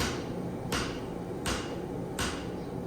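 Three sharp hammer blows ring out at a steady pace on hot steel, struck with a forging hammer made from a split maul during pattern welding, each impact bright and metallic over a low background hum.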